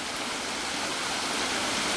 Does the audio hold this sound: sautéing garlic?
no